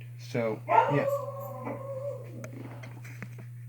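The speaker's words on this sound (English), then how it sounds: "I apologize for the barking." Pet dogs bark and howl briefly indoors, a couple of near yips and a short howl over a steady electrical hum, with a person speaking softly.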